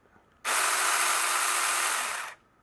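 A Saker battery mini chainsaw revs up abruptly, runs at a steady high-pitched motor whine for about two seconds, then cuts off and winds down; close and loud with no talking.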